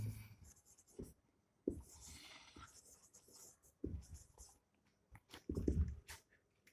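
A pen scratches across paper while working out a maths problem on the area of a shaded ring, in short, uneven bursts of strokes with brief pauses between them. The writing is close and moderately loud.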